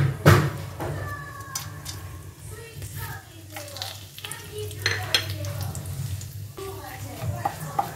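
Whole spices crackle and sizzle in hot butter and refined oil for paneer makhani, with a spoon stirring and scraping the pan. A voice talks through much of it.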